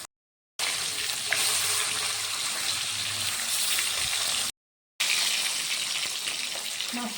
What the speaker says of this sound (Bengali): মাছগুলো আমি ভেজে নিচ্ছি।